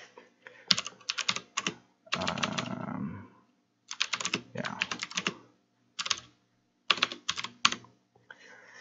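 Computer keyboard typing a chmod command to make a script executable, in several quick bursts of clicky keystrokes separated by short pauses, close and fairly clear.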